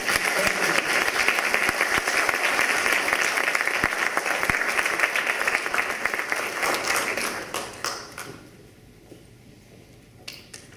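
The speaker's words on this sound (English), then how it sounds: "Let's give both of these gentlemen a round of applause" A full round of applause for political debate candidates at a chamber event, dense and loud at first, then fading away over the last few seconds to scattered claps.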